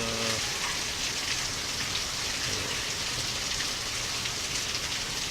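Steady rain pours down outdoors where children are playing in it, a dense continuous hiss of drops on surfaces holding an even level throughout, with no voices standing out.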